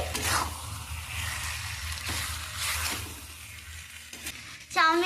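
Vegetable chow mein frying in a pan while being stirred, a soft sizzle broken by scraping stirs and clatters, ending with a brief tonal squeal.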